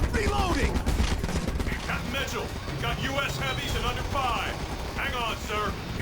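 Sustained gunfire from an overheating gun in Ghost Recon Advanced Warfighter 2 (PS3), continuous loud shooting throughout, with someone talking excitedly over it.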